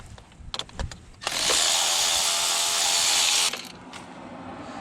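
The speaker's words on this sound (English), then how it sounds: "I'll just go ahead and use my electric wrench to pull those out" Electric wrench, not an impact type, spinning spark plugs out of a 2000 Cadillac, a steady loud whirring motor run of about two seconds after a few short clicks and handling noises, then quieter clatter.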